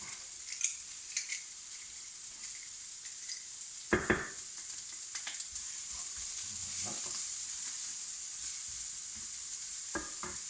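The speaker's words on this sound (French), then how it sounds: "pendant que mes échalotes sont en train de revenir pour la sauce madère" Shallots frying gently in pan fat for a Madeira sauce give a steady soft sizzle, broken by occasional close clicks and scrapes of stirring, with no talking.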